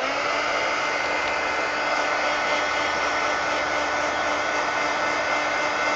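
A hair dryer blows hot air to dry ink on a page, a loud steady whir with a constant hum held evenly from start to finish and no voices.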